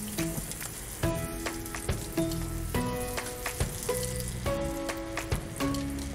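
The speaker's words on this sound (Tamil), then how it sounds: "இப்போ நம்ம பர்கர் பன்ஸை வந்துட்டு சூடு பண்ணிக்கலாங்க" Burger buns warm in melted butter in a pan, giving a continuous close sizzle and frying hiss with occasional soft clinks and scrapes, no talk.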